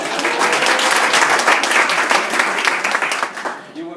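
Loud, dense applause from an audience watching a street performer, sustained for several seconds and then tapering off at the end, with some voices mixed in.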